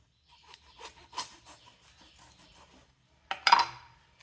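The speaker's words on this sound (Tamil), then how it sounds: "மாங்காய் கட் பண்ணால் நம்ம இது மாதிரி தான் கட் பண்ணணும்" A knife cuts raw mango into pieces for mango pickle, giving a series of short rasping, scraping strokes at close range, then a louder, sharper cut near the end with no talk.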